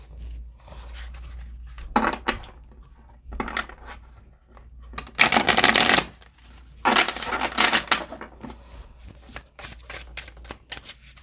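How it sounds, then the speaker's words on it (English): A deck of tarot cards is shuffled up close in repeated riffling bursts and softer handling sounds, loud and crisp, with brief pauses between shuffles and no talk. "All right, let's get shuffled."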